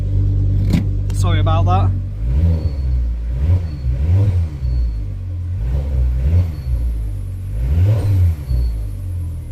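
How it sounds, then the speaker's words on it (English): A car engine revs in short repeated bursts after a misfire fix, about five rising and falling swells at steady intervals, loud and close, with a voice speaking briefly near the start. "We'll have a few little revs."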